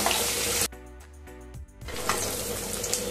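Basmati rice frying in a pan gives a steady, fairly loud sizzle with a tonal break in the middle before the sizzling returns.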